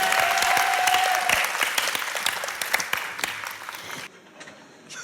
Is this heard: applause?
yes